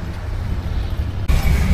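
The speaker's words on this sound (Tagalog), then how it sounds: "Hirap dito, ang dami sasakyan." Heavy road traffic in Navotas heard from a motorcycle: a dense, low, rumbling roar that suddenly grows louder partway through, with no talk.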